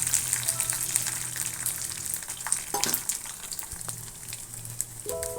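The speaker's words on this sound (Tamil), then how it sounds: "நல்லெண்ணெயில் தாளிக்கணும்." Steady crackling sizzle of spices tempering in hot sesame oil for lemon rice, with a few stirring clinks and scrapes near the end.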